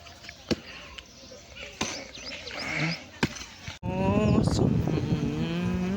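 After a few sharp knocks and thuds, a cow lets out a long, loud, close moo that fills the last couple of seconds.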